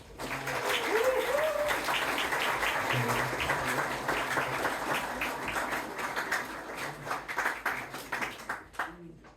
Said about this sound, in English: let us share our applause for Betty Lou and all that she has given to Celtic music